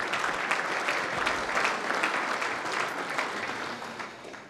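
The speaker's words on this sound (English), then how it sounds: "Yeah, a round of applause for Lockie." Steady applause from an audience at a football club awards night, honouring the Under-19s best-and-fairest runner-up; even, moderately loud clapping that holds for several seconds with no talk over it.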